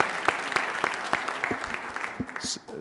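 An audience applauds the minister after a talk on rebuilding Myanmar's health system: steady, loud clapping from a crowded room that thins out near the end.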